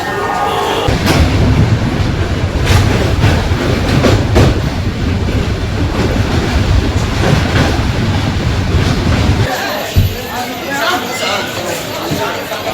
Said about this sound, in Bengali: হাওড়া ট্রেন 1 ঘন্টা লেট, হাওড়া ভুবনেশ্বর জনশতাব্দী এক্সপ্রেস।